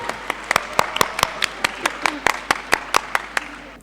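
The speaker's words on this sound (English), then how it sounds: "Can we have a huge round of applause?" Scattered applause from an audience at an inter-school debate awards ceremony at Delhi Public School, a handful of distinct claps spaced irregularly over a few seconds rather than a full roar, with faint talk underneath.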